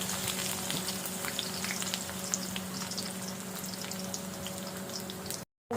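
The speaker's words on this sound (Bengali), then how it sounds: "1 কাপ রসুন ভেজে নিচ্ছি।" A cup of garlic frying in oil gives a steady, soft crackling sizzle with a faint hum beneath it, continuous throughout and cut off briefly at the very end.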